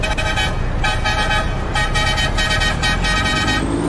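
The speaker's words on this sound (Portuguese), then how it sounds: "Pessoal buzinando aí" Several vehicle horns honk repeatedly in steady bursts over the constant rumble of road traffic, with trucks around, as a classic Mercedes-Benz Constellation truck sets off during a live truck event.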